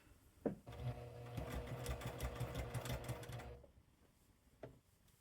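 A sewing machine runs steadily for about three seconds, stitching fabric down in one continuous whirring, rattling burst, with quiet clicks before and after.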